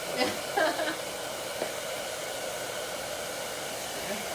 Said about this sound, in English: none of us have figured out a way to make blow drying not take forever to do